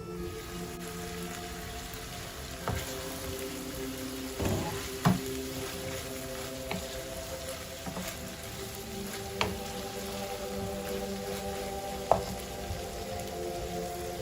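Minced meat keema fries in a pan with a steady crackling sizzle, punctuated by occasional sharp clicks and scrapes of stirring, heard alone at close range.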